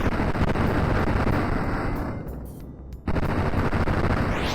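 Rapid gunfire from physics-driven weapons in a VR shooter, slowed to slow motion: a dense, continuous roar of shots that thins and dips briefly near the middle, then resumes at full loudness.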